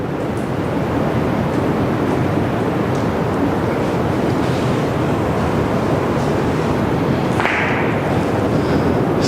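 Sea waves wash in a constant broad roar as heard from inside a narrowing sea cave on the New Zealand coast, with a dense, steady surging wash and no talking.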